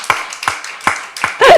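A church congregation at a Sunday morning worship service claps together in four slow, evenly spaced beats, then breaks into a short burst of voiced laughter.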